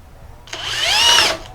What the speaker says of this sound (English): This wood, it starts to split as soon as the drill touches the wood